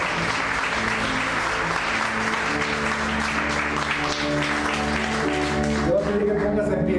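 A church congregation applauds in worship, sustained clapping blended with a held organ or keyboard chord and a voice speaking over it.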